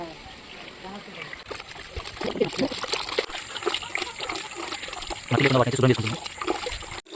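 Water splashes and trickles as mushrooms are rinsed to remove soil, with a louder gush of running water near the end, under steady talking.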